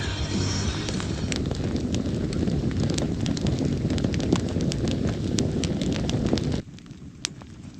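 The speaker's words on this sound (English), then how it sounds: "Windy as hell." Strong wind roars and buffets the microphone continuously with scattered clicks and knocks, then suddenly drops away near the end.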